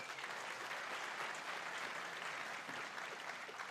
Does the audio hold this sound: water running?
no